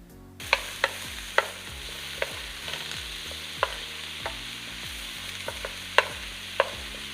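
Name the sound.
sautéing mushrooms with onions and garlic in a pan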